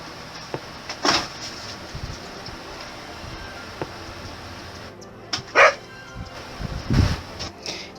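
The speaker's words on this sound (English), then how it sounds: "Get my dog barking." A pet dog barks in a few sharp, separate yelps over a steady background hiss, fairly close and with no talking.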